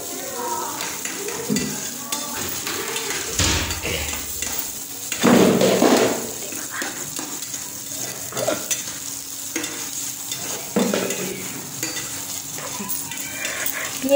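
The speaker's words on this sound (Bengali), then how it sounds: "পেঁয়াজ ভেজে নিতে হবে।" Onion frying in a pan, a continuous close sizzle with scraping stirs and occasional louder clatters of utensil against metal, with faint voices at times.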